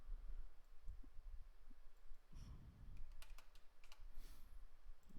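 Someone types a value on a computer keyboard, producing faint, scattered keystroke clicks in short bursts against a very quiet background.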